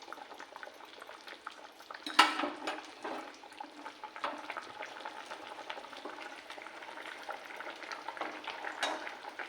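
Fish cooking in a frying pan, a crackling, bubbling sizzle running throughout with a sharp clatter of stirring early on and more faint utensil knocks scattered across, close by and with no talk.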